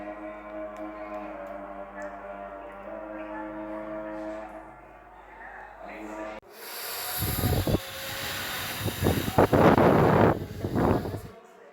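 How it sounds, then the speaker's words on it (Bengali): Snakehead fish fries in hot oil in a frying pan. After a quieter, tonal opening, a loud, close, crackling sizzle bursts in and continues with spitting pops for the last five seconds. "এই যে মাছ ভেজে নিলাম"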